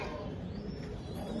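A young pigeon coos softly and low, a faint murmuring call close by under a quiet background hum, with no talking.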